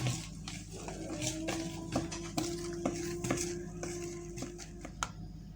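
A whisk stirs chocolate sponge cake batter in a bowl, with soft repeated scraping and light clinks against the bowl at a steady, quiet, close pace.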